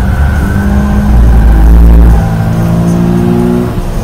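A Subaru BRZ sports car accelerates through a corner on a racetrack, its engine revving loud and close with a steady rising drone before easing off.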